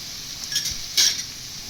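Capsicum and onion for paneer fried rice are stir-fried in a pan: a short burst of sizzling with two quick scraping stirs, close and fairly loud.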